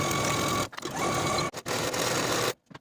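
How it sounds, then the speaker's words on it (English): Sewing machine stitching shoulder and side seams: a steady, loud, fast mechanical whir in sustained runs, broken by two brief pauses before it stops. "Sew your shoulder seams and side seams with a 5/8 inch seam allowance and serge your seams to finish."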